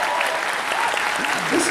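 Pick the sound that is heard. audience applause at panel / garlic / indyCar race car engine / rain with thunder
audience applause at panel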